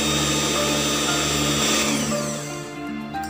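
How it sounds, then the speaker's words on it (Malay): An electric mixer beats potato biscuit dough with a steady, close, humming motor whine, then the pitch drops and the motor winds down as it is switched off. "matikan pengisar"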